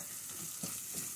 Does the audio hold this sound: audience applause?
no